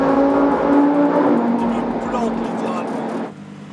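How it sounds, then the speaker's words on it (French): A sedan pulls away hard at the Gumball 3000 rally, its engine note rising loud and close for several seconds before cutting off abruptly, with voices talking over it. "leur voiture qui est une berline accélère plus fort que ma voiture de sport"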